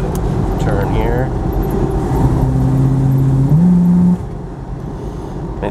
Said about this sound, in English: But I'll go ahead and floor it again. You can hear it kick down.